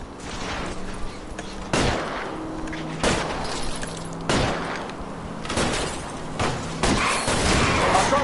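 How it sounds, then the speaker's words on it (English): Gunshots aimed at a fleeing car's tires in the L.A. Noire video game: several sharp, loud shots crack at irregular intervals over a constant rumble of engine and road noise during a chase. "shoot out his tires."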